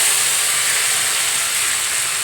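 Ground masala frying in oil for a capsicum curry, a steady loud hiss with a bright high sizzle that holds evenly throughout, with no talking.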